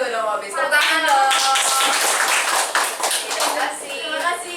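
Members of an entrepreneurship class clap their hands together, a short burst of close, fairly loud claps under overlapping chatter and voices.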